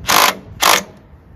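A socket wrench with a 10 mm socket ratchets on a lawn tractor battery terminal: two short, loud, rasping clicks of ratcheting, close up, with quiet between them.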